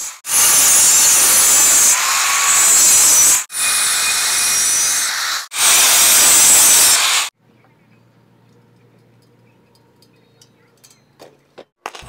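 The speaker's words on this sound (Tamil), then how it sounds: "இப்போ நம்ம வெல்டிங் பண்ண இந்த பார்ட்டை இந்த இடத்துல கிராஸாக கட் பண்ணி இதை ஃப்ளாட்டாக வளைக்க போகிறோம்." Metal frame part for a homemade mini bike being cut, three long loud hissing, grinding bursts with short breaks between them, then near silence with faint scattered clicks.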